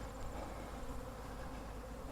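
A dense, steady buzzing of many honey bees in a robbing frenzy around hives close by, continuous and unbroken throughout.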